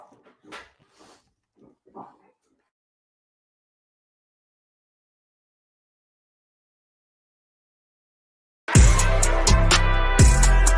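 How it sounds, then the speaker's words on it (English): A dog gives a few short barks and whimpers early on, faint and somewhat distant, followed by silence and then a sudden loud burst of harsh, layered noise. "I'm waiting on my dog to stop barking."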